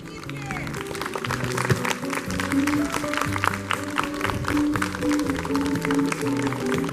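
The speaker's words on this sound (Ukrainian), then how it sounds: "Давайте її гарячими аплодисментами привітаємо з днем народження." Applause for a fifth-grade student's birthday at a school's first-day ceremony, steady clapping from a gathered crowd of students and parents lasting several seconds, with music and voices mixed underneath.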